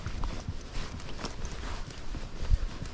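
A Rocky Mountain Horse, a gaited breed, is ridden alone outdoors, its hooves clip-clopping in a steady, even rhythm of close, sharp footfalls.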